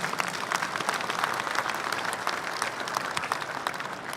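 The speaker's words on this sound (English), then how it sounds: "Can we please have a round of applause for the incredible family and friends?" Sustained audience applause at a fire department medal day ceremony, dense steady clapping from a large crowd filling the whole stretch with no pauses.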